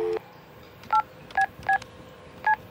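Cartoon telephone dialing tones come from a toilet rigged up as a phone: one longer tone, then four short, evenly spaced beeps, clear and close against a quiet background.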